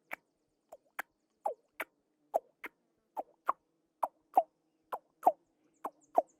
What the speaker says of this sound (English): that's not a bear, that's a raven.